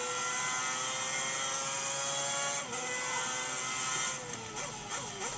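A Formula 1 car engine in the F1 2010 racing video game screams at high revs, its pitch holding steady, then dipping and climbing through a few quick gear changes near the end, loud and without talk.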